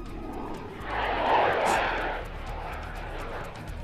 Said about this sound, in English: the F-111 is the Air Force's #1 attack aircraft